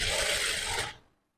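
A sewing machine stitching a churidar, a short close burst of rapid mechanical clattering that stops abruptly after about a second.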